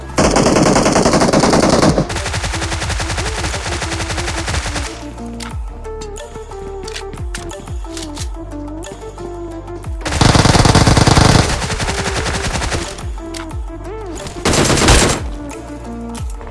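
Rapid automatic gunfire in PUBG Mobile squad combat, loud sustained bursts at the start and mid-clip with scattered single shots and impacts between, game sounds layered throughout.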